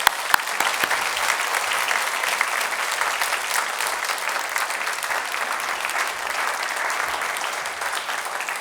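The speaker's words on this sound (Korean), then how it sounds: "우리 나오실 때 박수로 환영하겠습니다." A church audience gives warm, sustained applause to welcome a pastor, a dense even wash of many hands clapping, loud and steady throughout with no talk.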